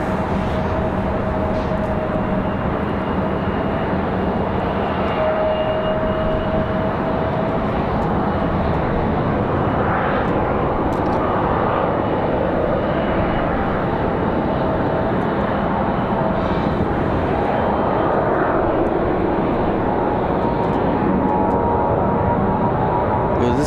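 An American Airlines A321-200 jet departing Raleigh-Durham for Charlotte, a loud, steady engine roar filling the air with a broad rushing whine that swells and shifts slightly as it climbs away.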